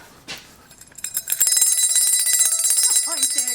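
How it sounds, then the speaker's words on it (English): A small handmade silver-plated bell dated Christmas 1991, shaken close by in a quick run of bright, ringing tinkles that linger, after a few soft handling clicks. "A little bell right there."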